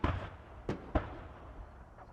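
A grenade goes off in the military shooter Squad: a sharp blast at the start, then two further booming impacts in quick succession, each with a short rumbling tail, against a low background of ambient battlefield noise.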